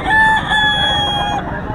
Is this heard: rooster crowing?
yes